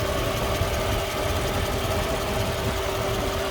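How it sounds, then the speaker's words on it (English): A 2001 Mercedes-Benz CLK430 Cabriolet engine idles smoothly under an open hood, a steady close-up hum with even, unbroken low rumble and no voices. "You can hear it idling very happily here."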